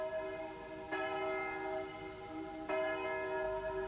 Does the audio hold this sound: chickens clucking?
no